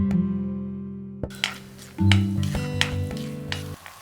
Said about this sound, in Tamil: கொத்தமல்லி வேரை போட்டு ஒரு 30 to 40 செகண்ட்ஸ் நல்லா வதக்கிட்டு